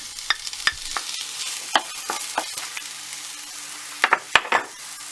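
Oil sizzles steadily as two coarsely chopped onions fry, while a utensil scrapes and clicks against the pan in irregular strokes, loud and close.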